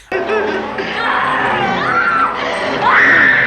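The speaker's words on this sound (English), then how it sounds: "Sally, one of the characters, is screaming constantly." A woman screams in terror in The Texas Chain Saw Massacre, a sustained, loud, shrill cry that wavers and climbs in pitch over a dense, noisy film soundtrack.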